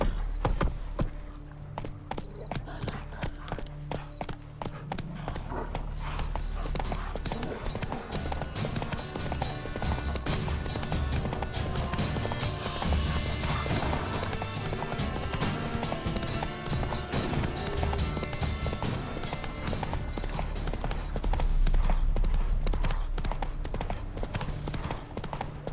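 Horse hooves clip-clop in a quick, steady rhythm in the video game Witcher 3: Wild Hunt, close and continuous over a broad layer of ambient game sound.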